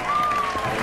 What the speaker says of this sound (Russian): Аплодисменты, господа!